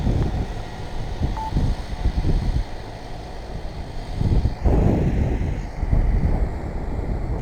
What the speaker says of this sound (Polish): Ale zimny wiatr się zerwał.